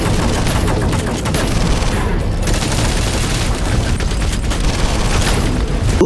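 Film action gunfire against a monster, a dense, loud fusillade of rapid shots and booming blasts rolling continuously, with a brief dip before the firing resumes.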